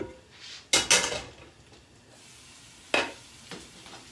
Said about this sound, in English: Want to scrape the pan. It has all that delicious fond at the bottom of the pan.